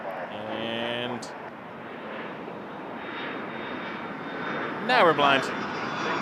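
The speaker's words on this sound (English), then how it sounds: "But as it flies over us, this is where we get the good shots." A KLM airliner passes overhead at Toronto Pearson Airport with a loud, sustained jet engine roar throughout, while a person talks briefly at the start and again near the end.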